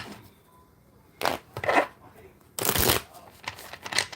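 Tarot cards shuffled by hand in several quick riffling bursts separated by short pauses, close and fairly quiet.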